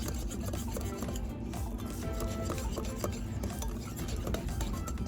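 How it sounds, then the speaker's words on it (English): Flour being mixed a little at a time into banana cookie batter with chocolate chips: steady, close rubbing and scraping strokes in a bowl with a gritty rasp, with no talking. "Mix in a little bit at a time."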